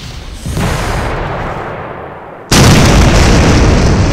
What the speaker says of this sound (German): Die Explosion ist einfach sowas von drauf.